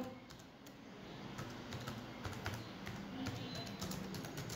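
Keys on a computer keyboard are typed in quick, light, uneven bursts, soft and close in a quiet room, with no talk over them.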